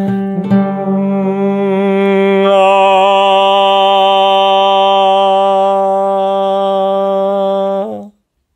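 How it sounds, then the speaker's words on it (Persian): A single sung note G held steadily for about eight seconds, full and clear, ending with a brief fade; no other sounds. "مثلا میخوام نوت سول اینجا اجرا کنم"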